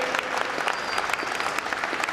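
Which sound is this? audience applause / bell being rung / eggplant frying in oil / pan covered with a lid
audience applause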